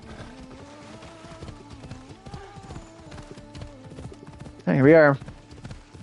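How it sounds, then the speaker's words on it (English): Horse hooves clip-clopping during riding in Assassin's Creed Odyssey, a steady rhythmic trot under game music, ending with a loud, brief whinny near the close; someone speaks briefly. "Let's hop off our horse."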